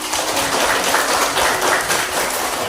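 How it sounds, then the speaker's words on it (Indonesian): A classroom full of people applauds together, a steady, dense wash of clapping that holds at even loudness throughout without any talk. "Let's give applause to everyone."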